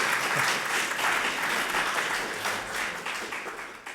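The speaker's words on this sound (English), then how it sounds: "Maybe we should give them a wee round of applause." An audience claps for a trust's sponsors at an evening event, giving steady, dense applause that holds for several seconds and eases slightly toward the end.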